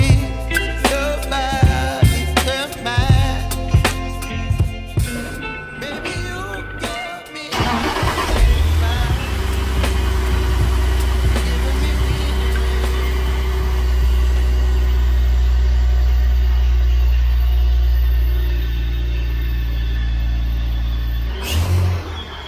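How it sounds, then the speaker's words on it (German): A car engine is cranked several times in sharp bursts before catching, then settles into a loud, steady idle that runs on until a final clunk near the end. "Ich starte den Wagen jetzt mal."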